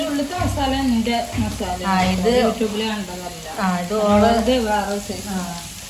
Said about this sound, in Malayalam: ഇഞ്ചി, വെളുത്തുള്ളി, കറിവേപ്പില, ഉള്ളി ഒക്കെ ഇട്ടിട്ട് നല്ലോണം വഴറ്റിയെടുക്കുക